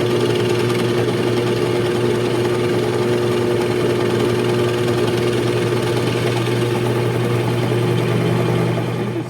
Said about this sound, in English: So you let the drill go at its own speed.